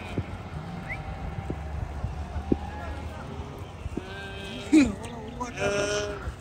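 Sheep bleat on a mountain pasture, with several clear, wavering bleats toward the end over a low outdoor background and occasional voices.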